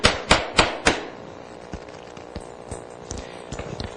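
Sharp hammer taps on a Shopsmith overarm router frame to loosen it in a workshop: four loud close strikes in quick rhythm, followed by fainter, scattered lighter taps.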